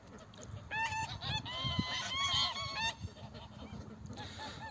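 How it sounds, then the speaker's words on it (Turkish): Several geese honk loudly and repeatedly nearby, overlapping calls in bursts with brief pauses between. "Kazlar ama rahat rahat çıkıp gidiyorlar."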